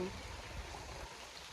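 Steady heavy rainfall, a dense continuous hiss with low rumbling patter, close and loud throughout.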